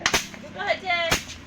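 A blindfolded person swings a broom to pop balloons, giving a sharp pop near the start and another around one second, with excited voices and a squeaky toy-like warble in between.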